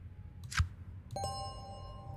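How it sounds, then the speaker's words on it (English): A single bright bell ding in the video game Occult Chronicles rings out after a short whoosh, its clear tone holding and slowly decaying over a low ambient hum. "You enter a trance and then hear the bell ring."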